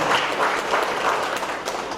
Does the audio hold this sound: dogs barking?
no